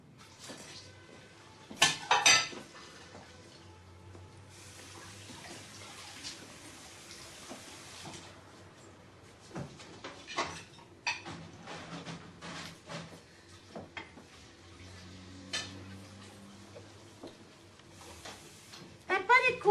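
Dishes get washed in a kitchen sink, with scattered clinks of crockery and bursts of running water, all quiet under French conversation.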